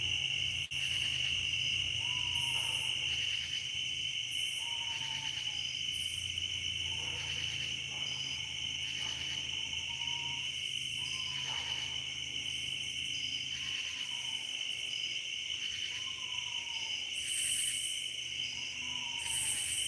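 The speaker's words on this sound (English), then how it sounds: "I think that's an owl." An owl on a farm at night hoots faintly and regularly, roughly every two to three seconds, over a steady chorus of crickets and insects.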